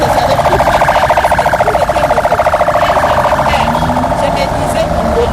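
An ambulance siren wails in a steady rapid warble close by, loud and continuous, with traffic and engine rumble underneath in a city street setting in Goma.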